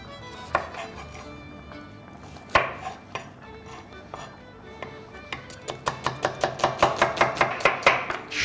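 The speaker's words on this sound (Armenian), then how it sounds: "Կտրատում ենք կիսալուսնաձև։" A knife slices an onion into half-moons on a board, starting with a few scattered cuts and then settling into a fast, steady run of crisp, close chops.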